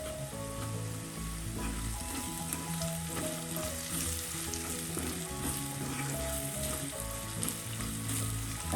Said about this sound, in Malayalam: ടീസ്പൂൺ ഗരം മസാലപ്പൊടി എല്ലാം കൂടി ചേർത്ത് ഈ ഓയിലൊന്ന് മൂപ്പിക്കാം